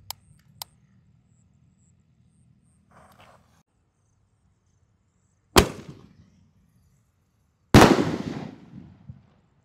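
A Roman candle bazooka-style firework launcher, 1.75-inch, double-attack type, goes off outdoors: two small pops and a faint fizz, then two loud, sharp bursts several seconds apart, each followed by a crackling tail.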